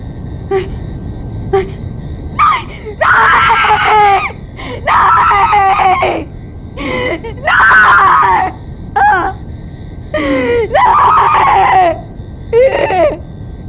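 A woman screams repeatedly in panicked bursts during a crime scene, several long shrill cries with short breaks between them, loud and close, with no other talk.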